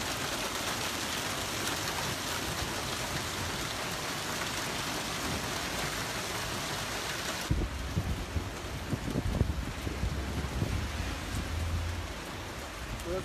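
Hail pelting down during a roughly five-minute hailstorm in Tokat, Turkey, a dense steady hiss of impacts filling the whole clip, growing harsher and more clattering partway through, with some wind buffeting.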